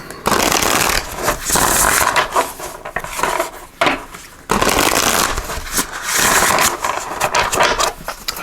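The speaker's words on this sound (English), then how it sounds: "I'm going to pull some cards here from the Light Seers Tarot just to get some more clarification and messages" Light Seers Tarot cards being shuffled by hand, close and loud, with repeated riffling and rubbing bursts broken by brief pauses, no talking.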